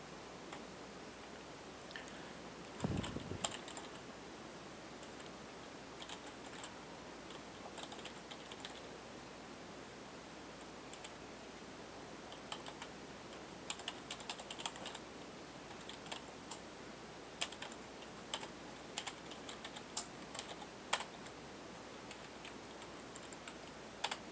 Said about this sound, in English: I'm going to open up command prompt. We're going to type in net use.